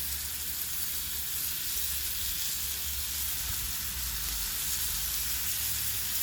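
Halved bacon slices sizzle steadily in a pan, a constant close, even crackle and hiss with no pauses and no voices.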